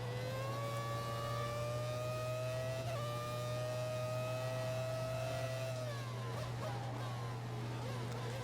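A 1998-season Formula 1 car engine screams at high revs in F1 2014, a sustained whining drone that climbs in pitch, dips at a gear change, then falls away, steady and close throughout.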